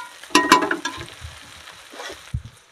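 Tarka dal is poured into a pan where an egg is frying, giving a sharp burst of hissing sizzle and splashing that settles into quieter bubbling with a few clinks of the utensil.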